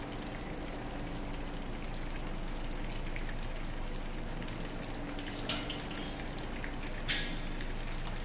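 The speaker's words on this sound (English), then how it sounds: "we'll put our strike water in the mash tun here" Hot strike water for a light IPA home brew pouring into a mash tun, a steady rushing gush of liquid running continuously at moderate level without speech.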